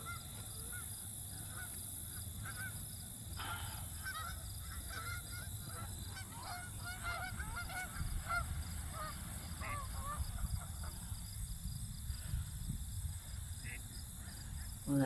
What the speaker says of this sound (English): these little ducks came up